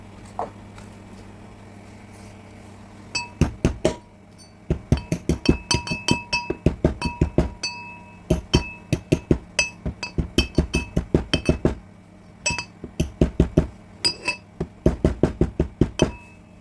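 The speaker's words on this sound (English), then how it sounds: "meanwhile, we'll just crush the peppercorns." Peppercorns being crushed in a kitchen, heard as a long run of sharp, bright clinks and taps in quick rhythmic bursts with short pauses, close and fairly loud, with no talking.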